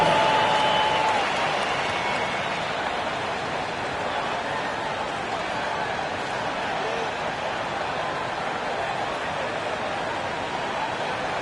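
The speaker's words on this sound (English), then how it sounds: "Give yourself a round of applause." Crowd applause at a basketball game, a continuous dense wash of clapping that stays steady and fairly loud for several seconds, with a voice over it near the start.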